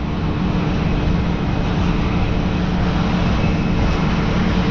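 A forage harvester chopper runs steadily during the last day of harvest, a loud, continuous engine roar with a broad mechanical hum that holds even throughout, with no voices.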